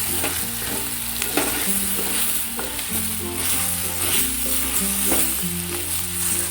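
Spice powder sautéing in a pan for brinjal puli kuzhambu, a loud continuous sizzle with rhythmic scraping and stirring strokes throughout, close and without talk.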